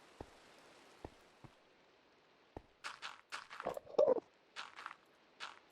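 Steady soft rain hiss from the Minecraft video game, with a few scattered clicks and footstep-like taps and a cluster of louder game noises partway through.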